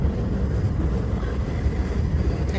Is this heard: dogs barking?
no